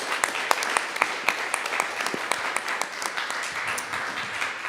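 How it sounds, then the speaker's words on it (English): An audience at an International Dance Week event applauds its supporters, with sharp individual claps close by rising above a steady bed of clapping from the wider crowd. "Let's have a round of applause for all of our supporters."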